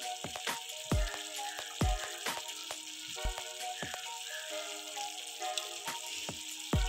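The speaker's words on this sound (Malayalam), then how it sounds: "മൂടി വെച്ച ചെമ്മീൻ ഒന്ന് തിളച്ച് വന്നിട്ടുണ്ട്" Prawns for Chemmeen Mappas simmering in a covered pot give a quiet, steady bubbling sizzle, with several sharp clinks and knocks scattered through it.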